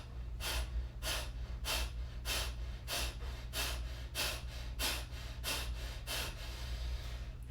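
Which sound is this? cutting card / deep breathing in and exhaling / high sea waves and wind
deep breathing in and exhaling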